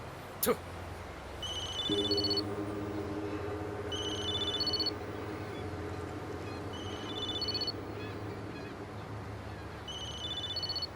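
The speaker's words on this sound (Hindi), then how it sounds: "फोन करके शायद किसी को बुला रहा है।" A telephone rings in repeated electronic bursts, about four separate rings spread evenly through the scene, under men's dubbed dialogue and low background music.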